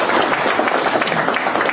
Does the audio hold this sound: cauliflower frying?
no